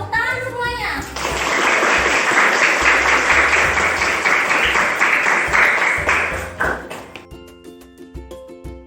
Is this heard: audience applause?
yes